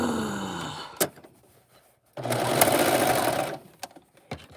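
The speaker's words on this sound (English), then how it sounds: "I just kept serging, and I did not know that it came undone" Serger overlock machine running in bursts, a short stop-start burst, then a steady loud whirring run of over a second, with sharp clicks between.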